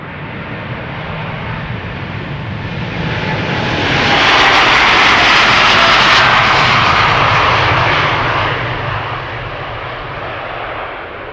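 A Boeing 787-9 Dreamliner, registration PH-BHN, first flown in January 2018, roars on departure from Amsterdam Schiphol. The engine noise starts steady, then swells to a loud peak in the middle and eases off toward the end.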